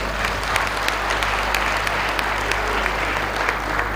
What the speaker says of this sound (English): I think this calls for a round of applause